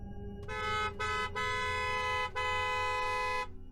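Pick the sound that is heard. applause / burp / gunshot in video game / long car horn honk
long car horn honk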